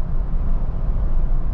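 A 2023 Ford Bronco Raptor pulls away under light throttle, its engine and exhaust making a steady low rumble that stays loud and close for a brief stretch.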